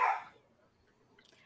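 A dog gives one loud, close bark at the very start, followed by near quiet and faint noise.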